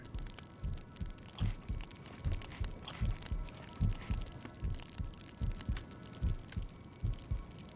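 A starving video game character's heartbeat thumps steadily in a regular doubled lub-dub rhythm, low and fairly faint, with a soft faint game-ambience hiss behind it and no talking.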